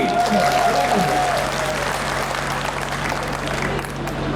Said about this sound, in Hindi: तालियां कम है थोड़ी सी आपकी